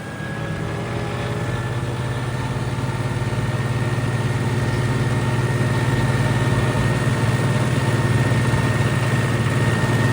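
A tractor engine with its stock silencer idles steadily at close range, a loud continuous low drone with a constant hum that rises slightly in level after the first second, running alone without talk.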